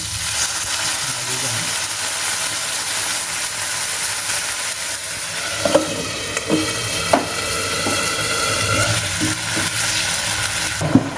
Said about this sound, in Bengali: এখন আমি তার মধ্যে দিয়ে দিচ্ছি জল